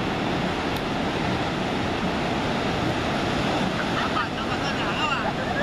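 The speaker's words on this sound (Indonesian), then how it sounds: "Inilah suasana pantai." Beach ambience at Sawarna, Indonesia, with a continuous loud wash of ocean surf mixed with wind buffeting the microphone.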